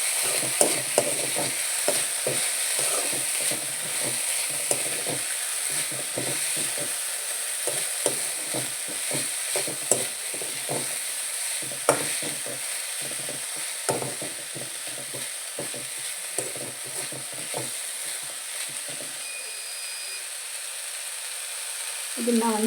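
Poha with grated coconut, coriander leaves and cooked peas stirred in a pan, a steady run of close, rhythmic scraping strokes over a faint sizzle and hiss, continuing for a long stretch without voices.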